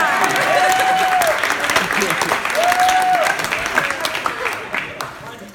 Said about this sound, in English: You can clap for Father Peter.